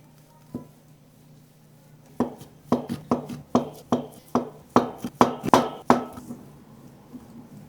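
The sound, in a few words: knife slicing shrimp into three pieces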